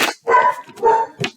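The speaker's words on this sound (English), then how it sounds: "Sorry if you can hear the dog barking in the back." A dog gives three quick, sharp barks close by in a short excited burst.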